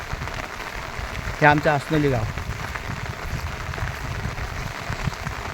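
Steady rain patters on village houses and surfaces in Asnoli, Maharashtra, a continuous close hiss, while someone speaks briefly over it.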